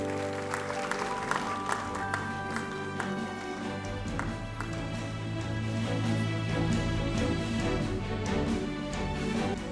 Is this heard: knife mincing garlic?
no